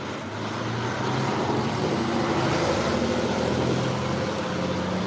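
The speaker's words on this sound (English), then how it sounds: "Sorry for the noise. We are on a downtown street." Steady downtown street traffic gives a continuous broad roar of passing vehicles and engine rumble, loud and unbroken with no talking.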